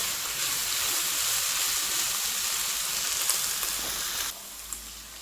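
Thin strips of sliced semi-hot pepper frying in hot oil for lagman, a steady, close bright sizzle that fills the whole stretch, easing slightly near the end.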